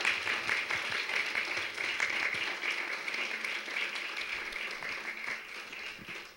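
Sustained audience applause at a conference, dense steady clapping from a seated crowd that holds for several seconds and tapers slightly at the end, with no voices over it.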